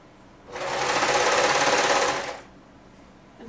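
A sewing machine stitches a sweater seam in one continuous burst of about two seconds, a loud, fast whirring buzz that starts and stops abruptly against a quiet room.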